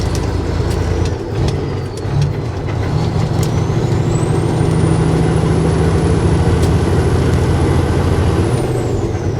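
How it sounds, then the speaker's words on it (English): A garbage truck rolls along a freeway with a loud, steady engine and tyre roar, a sharp air-brake hiss near the start and a rising whine partway through. "I don't know what this trash truck's doing either"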